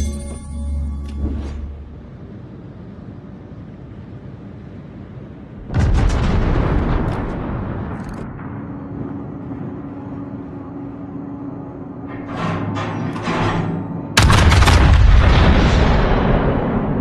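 Heavy naval gunfire and explosions in a video game's naval battle with a Kurfurst ship: a loud broadband blast, then rumbling decay, two more booming salvos with crackling bursts, and a sustained low roar between them.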